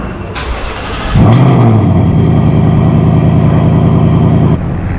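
Car engine with a Corsa cold air intake, cranking over and catching, then settling into a loud, steady run for several seconds before easing off near the end, close and unaccompanied by talk.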